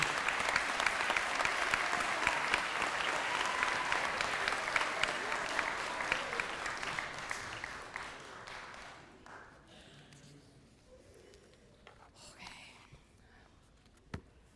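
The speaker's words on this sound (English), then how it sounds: "Please give them a round of applause as they return to their seats." Applause at a middle school 8th grade awards night rings out loudly for several seconds, then thins to scattered claps that trail off into quiet room noise.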